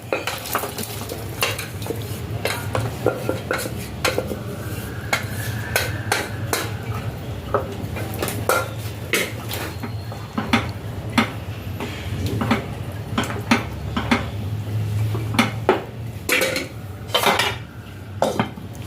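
Pressure-cooked mutton is stirred into a spicy curry in a pot, a long run of ladle clanks and scrapes against metal over a low simmering sizzle, rhythmic and close, with no talking.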